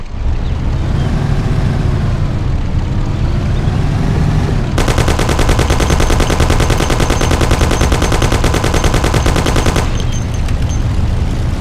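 Automatic gunfire from Mafia: The City of Lost Heaven, set in 1935: a sustained, rapid burst of shots lasting about five seconds, loud and close, over a steady rumbling car engine, with no talking.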